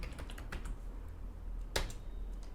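Code being typed on a computer keyboard: a quick, irregular run of close key clicks, with one sharper, louder keystroke near the end over a low background hum.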